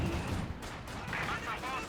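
Battle noise from the video game Company of Heroes 2, with a Panzer IV tank firing and scattered gunfire rattling beneath continuous commentary.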